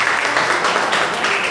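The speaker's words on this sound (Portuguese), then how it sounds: "as palmas para o Senhor Jesus" Congregation applauding during a Friday prophetic worship service in a church, a steady dense wash of clapping filling the whole short stretch at even loudness.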